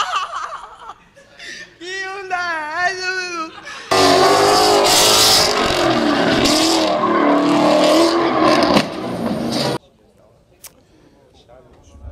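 A rear-wheel-drive supercharged Ford Mustang V8 revs hard and loud for several seconds, a dense roaring burst that cuts off abruptly, with people talking and laughing before and after.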